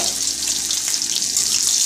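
Chopped garlic frying in hot oil with five-spice seeds and green chillies, giving a steady, even, bright hiss of sizzling that runs unbroken throughout with no voices.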